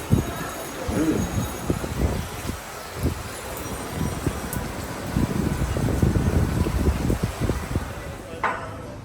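Steady wind gusting and rustling outdoors during rain, shaking trees, a broad roaring wash with bursts of buffeting throughout, no talking.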